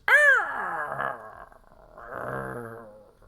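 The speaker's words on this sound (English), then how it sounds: "kind of a territorial growl that comes from the one nearby" A griffin's territorial growl as a sound effect: a sharp snarling onset that rolls into a sustained rumbling growl, pauses, then returns in a second lower, throaty swell, loud and close.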